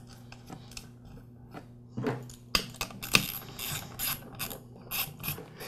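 Bolts being fitted to secure support brackets between the pump and housing of a Campbell Hausfeld oilless air compressor: scattered close metallic clicks, clanks and ratcheting taps of varying loudness, with no talking.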